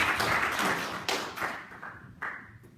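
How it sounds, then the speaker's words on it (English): Audience at a UKIP Young Independence political conference clapping in a short, fairly sparse burst of applause that thins out and fades over a few seconds, heard close with no talking. "We could have a big round of applause."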